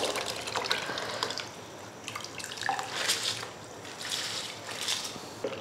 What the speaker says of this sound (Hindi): अब मैं इसमें चावल ऐड कर दूंगी। चलो अभी इसमें जा रहे हैं ये चावल।